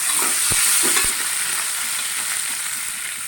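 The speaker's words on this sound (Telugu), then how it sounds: "పల్లీలు, శనగపప్పు మంచిగా వేగుతున్నాం" Peanuts and chana dal fry in a pan, giving a steady, bright sizzle with a couple of sharp stirring clicks early on, close and continuous with no voices.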